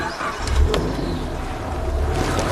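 A car engine starts out on a big game tracking drive in the bush, a low rumble catching and settling into a steady idle, fairly close, with no talk.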